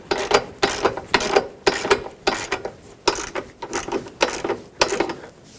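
A ratchet threads a receiver hitch bolt into a 2013-2020 Nissan Pathfinder, producing a steady run of close, crisp clicking strokes, about a dozen even pulses.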